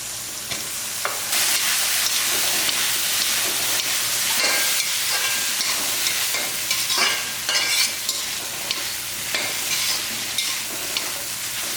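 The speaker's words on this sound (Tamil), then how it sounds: "இதுலேயே போட்டு ஒரு நிமிஷம் அந்த மாதிரி வதக்கிட்டோம்" Soya chunks sautéing in a pan with tomato, onion and chili powder, a steady sizzle with constant scraping and stirring strokes of a spoon, close and loud, with no voices.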